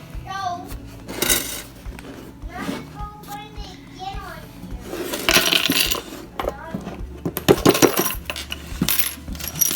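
Metallic clinks and rattles of many Canadian pennies tumbling and spilling out of a shadowbox frame, in bursts, with children's voices chattering throughout.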